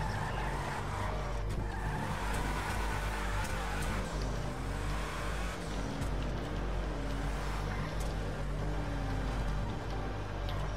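A car driven in the video game GTA 5 Online, engine roaring steadily and loud throughout, with tire squeals and skids rising now and then over continuous road noise.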